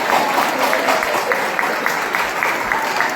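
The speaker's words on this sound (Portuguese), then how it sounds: "Uma salva de palmas" An audience in a longevity lecture hall claps steadily for a cardiologist being welcomed to the stage, a dense, even applause lasting a few seconds with no voices heard.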